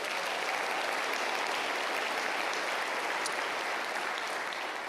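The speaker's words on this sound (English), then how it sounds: "clap it up for Neil Everett here, please" An awards-show audience at the 2018 Oregon Sports Awards claps for a host, a dense, loud, even wash of applause from a large crowd that holds steady throughout.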